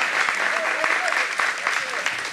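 A crowd at a live Pahlevan fighting event applauds a fighter from Turkmenistan: dense, steady clapping fills the whole stretch, with a few brief voices or shouts rising over it.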